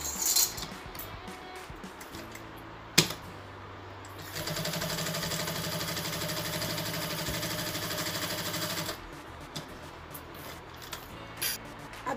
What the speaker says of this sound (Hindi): हम सेंटर में सिलाई लगा देंगे।